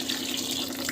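Water poured from a tap into a pan of cooking vegetables, a brief, steady rushing splash heard on its own.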